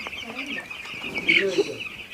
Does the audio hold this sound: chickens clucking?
yes